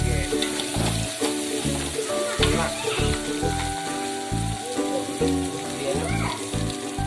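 Chopped tomatoes hit hot oil in a pan while a dish of stir-fried water hyacinth stems is cooked; a steady, close sizzle and crackle runs throughout, with faint pulsing sounds underneath.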